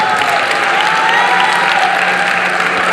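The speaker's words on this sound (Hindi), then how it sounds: "कुछ पुरुष नर्वसनेस में ताली बजा रहे हैं" Audience applause fills the hall, dense and steady, a sustained wash of clapping from many hands at a leadership event, with no voices rising above it.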